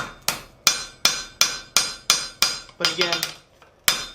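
Steady, ringing hammer blows strike hot metal at an even pace while forging a texture on an ornament, about ten hits with a short pause near the end; a voice briefly speaks between strikes.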